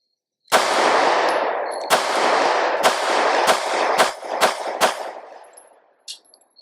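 A handgun fitted with a Streamlight TLR-7 HL-X SUB weapon light fires about seven sharp, loud shots in an uneven sequence, each with a short ringing decay, ending in a brief clatter.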